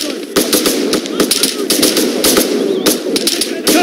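Rapid automatic gunfire in the military video game ARMA 3, loud bursts and single cracks rattling continuously across the whole stretch, close and dense.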